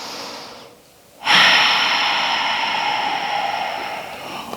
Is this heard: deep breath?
yes